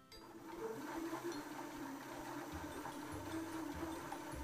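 A Janome DC 3050 sewing machine, driven by its foot pedal, runs with a quiet, steady motorized whir. A low mechanical hum shifts pitch slightly as the speed changes, with no talking over it.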